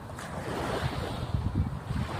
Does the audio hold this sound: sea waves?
yes